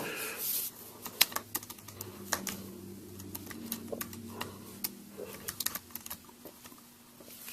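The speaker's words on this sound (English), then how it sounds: "I've got my Apple Bluetooth keyboard." Typing on an Apple Bluetooth keyboard used with an iPad: irregular, close, crisp key clicks tapping along at a steady working pace in a quiet room, with a faint low hum underneath.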